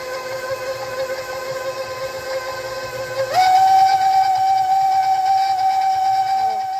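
A loud electric stand mixer creams butter, shortening and sugar in a steady whine that shifts to a higher, louder pitch partway through as the speed goes up, with no talking over it.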